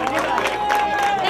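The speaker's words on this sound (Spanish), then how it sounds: "¡Fuerte aplauso!" A crowd at the San Silvestre Rota 2013 trophy ceremony applauds costume prize winners with a brief, dense burst of clapping and cheering mixed with crowd babble and a held musical tone.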